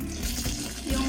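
Water pours steadily into a homemade dishwashing liquid mixture, a brief close splashing stream filling a container.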